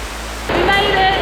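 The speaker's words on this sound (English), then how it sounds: "Look at all of these waterfalls." Waterfalls in Tongariro National Park, New Zealand, heard as a steady broadband rush of falling water that swells louder midway through.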